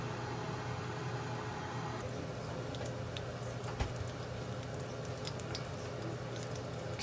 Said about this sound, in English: now we're sizzling, baby